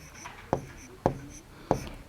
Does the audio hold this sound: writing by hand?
yes